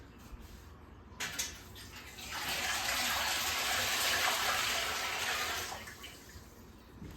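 Water gushes into a Presto pressure canner, starting with a brief splash and then a steady, full pour for about four seconds before tapering off, close and alone with no talk.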